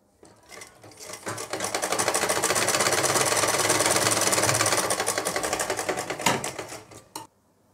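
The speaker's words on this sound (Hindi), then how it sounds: "ये सिलाई मैं आपको लगा के दिखा देता हूँ" A sewing machine stitches fabric for a koti vest in one continuous run of fast, even mechanical chatter lasting about six seconds. It starts up, stops abruptly, and is close and fairly loud with no talking.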